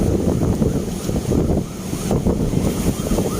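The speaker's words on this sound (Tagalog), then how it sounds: "kitang-kita talaga ang pagbulwak ng dagat galing dyan sa may seawall" Heavy sea waves surge against the Manila Bay seawall in a constant roar of surf and splashing, buffeted by strong wind noise on the microphone, loud and close.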